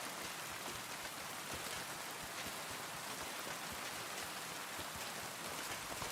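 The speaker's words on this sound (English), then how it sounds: "Dude, the rain sounds so good." Steady, dense rain ambience in the game Kingdom Come: Deliverance 2, a continuous hiss of drops pattering on surfaces with no breaks and no voices, even and moderately loud throughout.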